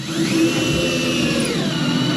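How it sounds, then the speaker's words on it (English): A steady, continuous whine of a power drill boring a hole in a wooden boat stringer, running at constant speed, loud and close, with no pauses or voices. "we're going to drill a hole."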